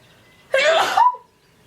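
A single loud sneeze close to the microphone, rising sharply and fading quickly, over a quiet background.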